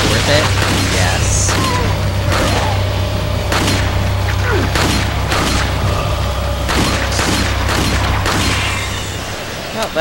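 Red9 handgun shots fired in the video game Resident Evil 4, a steady series of loud, sharp reports and mechanical clacks over a low droning game background, with a voice talking.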